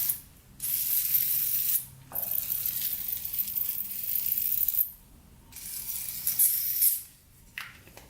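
Ratchet working on the chain of a Suzuki RM125 dirt bike, long hissing, rasping bursts of rapid clicking broken by brief pauses, loud and close.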